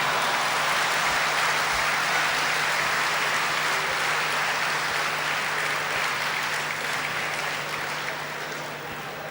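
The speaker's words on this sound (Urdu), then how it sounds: "آپ کے سامعین کی تالیاں گواہ ہیں" Dense, sustained applause from an audience at an Urdu poetry mushaira, a loud even wash of clapping that holds for several seconds and slowly fades slightly at the end.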